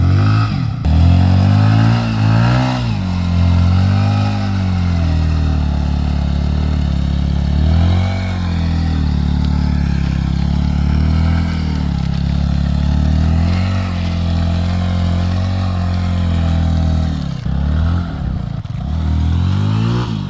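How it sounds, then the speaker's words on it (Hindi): A motorcycle engine, running hot at 105 degrees, rumbles loudly and continuously, its pitch rising and falling with revs and rattles as it rides over uneven ground near a river. "ये बाइक पता है कैसे चल रही है"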